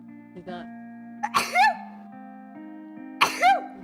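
A person sneezes twice, sharp close bursts about two seconds apart, over a steady electronic hum with brief murmured voice sounds in between.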